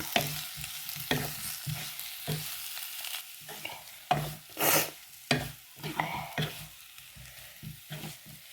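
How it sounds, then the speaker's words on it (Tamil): Boiled cassava stir-fried with onion, green chilli and salt in a pan, a continuous close sizzle with repeated irregular scraping and tossing strokes, some sharper clatters in the middle, no talking. "இப்போ இப்போ போட்டு பிரட்டி விடுவேன்"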